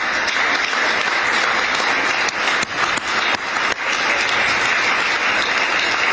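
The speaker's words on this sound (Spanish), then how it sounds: "¿Por qué no le das un aplauso al Señor?" Steady, dense applause from a church congregation fills the room throughout, loud and continuous with a few brief dips in intensity.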